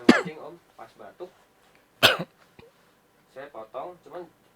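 Two sharp, loud coughs about two seconds apart break up a man's speech in an indoor conversation, with quieter talk in between and after.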